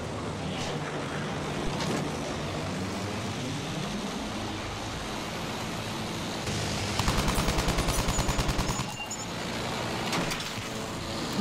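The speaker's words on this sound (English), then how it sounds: "Machine gun, one of theirs." Machine gun fire in the Battlefield 1 Cape Helles battle, a rapid burst of rattling shots near the middle over a dense roar of engine and distant battle noise, with another short volley later.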